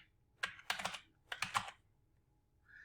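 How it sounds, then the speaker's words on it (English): Typing on a computer keyboard, two quick bursts of key clicks close up, each a short cluster of several taps separated by a brief pause, fairly quiet with no talking. "I'm going to type Notepad"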